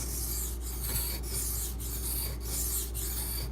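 A knife blade strokes back and forth across a hard Beston whetstone, a scratchy rasping rub repeating in an even rhythm about every half second, close and fairly quiet with no voices.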